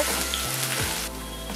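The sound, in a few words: crushed ginger and garlic frying in oil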